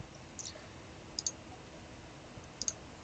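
Soft mouse clicks at a computer, a few quick pairs spaced out over quiet room tone.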